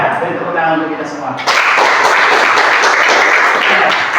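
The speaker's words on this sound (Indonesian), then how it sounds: "beri tepuk tangan untuk kita semua" A classroom audience at an Islamic lesson bursts into applause after a brief spoken line, loud, even clapping that fills the room and carries on to the end.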